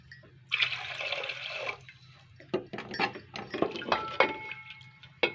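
Water poured from a glass into moong lentils in a cooking pan, a close splashing and trickling pour lasting about a second, followed by scattered clinks and small liquid sounds with no talking.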